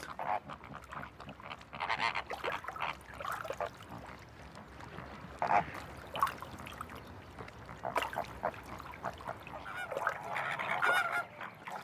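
A flock of flamingos gathered near their spring breeding grounds in Europe calls continuously. Overlapping nasal, goose-like honks and gabbling rise and fall close by for the whole stretch.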